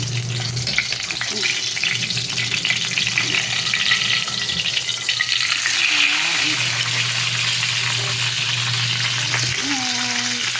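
Steady, loud sizzling and crackling of pork belly frying in hot oil, with a low hum underneath and some faint background voices.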